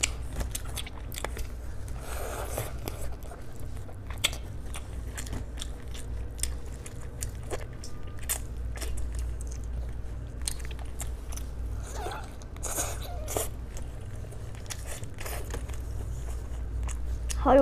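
Close, wet biting and chewing of steamed chicken, steady mouth sounds with soft smacks and occasional louder bites, no talking.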